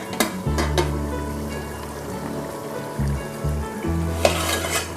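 Chicken dum biryani being stirred in a dabara pot, with scraping and clinking of a spoon against metal over a low, steady sizzle and hum, a few sharp knocks standing out.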